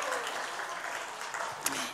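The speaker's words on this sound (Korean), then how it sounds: "우리 하나님께 영광의 박수를 올려드립니다" Brief, soft applause from a congregation during a church service, a steady wash of clapping lasting under two seconds.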